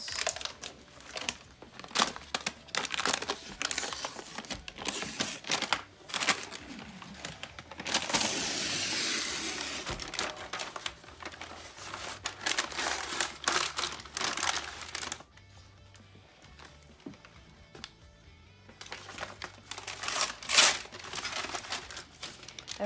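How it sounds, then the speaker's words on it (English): Paper lining peeled by hand from a 15-pound block of peanut butter soap, with close crinkling and tearing in repeated bursts, a longer rustle in the middle and quieter pauses between. "now what we're going to do is peel all the paper off"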